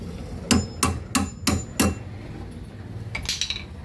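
Hammer taps a bolt out of a C4 Corvette's front suspension near the disconnected sway bar: five sharp, close metallic strikes in an even rhythm, followed by a few lighter clinks.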